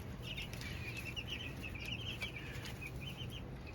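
Many young chicks and baby turkeys cheep and peep continuously in high, thin chirps over a low steady hum, with no talking.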